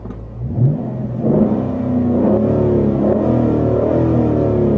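A 2010 Dodge Challenger R/T engine revs up, with its deep, throaty roar building and then holding strong and steady. The sound is close and loud, and no one speaks over it.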